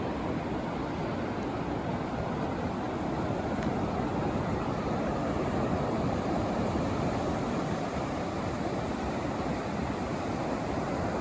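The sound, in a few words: waves of the Gulf rolling in on Galveston Island beach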